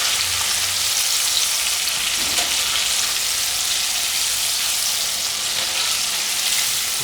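Thin beef strips deep-frying in very hot oil, a dense, steady sizzle and crackle that holds loud and close throughout, with no voices.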